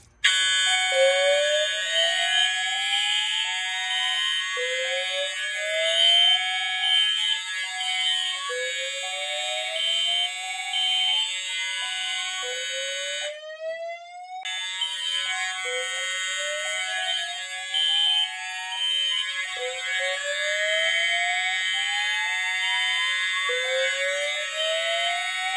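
A Notifier NFS2-640 fire alarm system sounds its voice evacuation signal in repeated rising sweep tones, loud and continuous, with one brief gap partway through and no talking.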